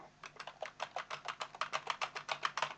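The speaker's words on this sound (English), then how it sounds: "I'm just going to type" Rapid typing on a computer keyboard, about fifteen distinct quiet keystrokes in an even rhythm, close and alone, with no talking.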